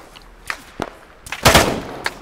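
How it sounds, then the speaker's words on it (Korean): Sniper fire in the military video game Arma 3, set in Chernarus: a few sharp reports, with one louder, longer crack near the middle and fainter shots around it. "저격수 총소리가 나냐?"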